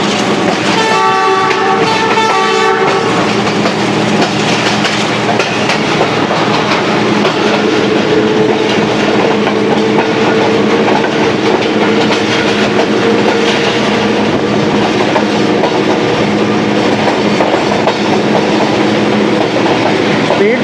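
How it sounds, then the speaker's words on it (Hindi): The Sialkot Express passenger train, Lahore to Sialkot, rolls over the rails amid heavy rain with a loud, continuous roar and rattle, a horn blast sounding in the first three seconds. "स्पीड पकड़ लिया ट्रेन ने।"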